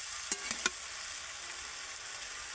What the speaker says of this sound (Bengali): এবার আমি সবজিগুলোকে ভালো করে মশলার সাথে কষিয়ে নেব